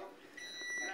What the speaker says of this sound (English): The stove is beeping.